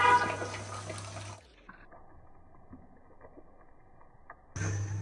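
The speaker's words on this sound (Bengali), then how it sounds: "এটা একবারে ভাজা ভাজা করব, গরম পানি ঢেলে দিলাম" Hot water splashes loudly onto rice frying in a pot for ilish pulao, a brief gushing pour followed by a quieter bubbling simmer and then another burst of pouring.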